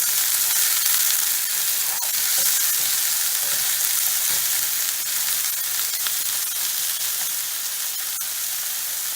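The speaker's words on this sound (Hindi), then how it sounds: "प्याज के एबे टिके तेल सहित फ्राई कर देबा" Onions fry in oil in a pan for vegetable cheese masala pasta, giving a loud continuous close sizzle with occasional stirring clicks and no voices.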